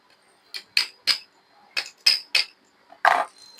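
Light hammer taps on a mixer grinder part during repair: about seven sharp, clinking metallic knocks in uneven pairs and singles, close and fairly loud, with no talking.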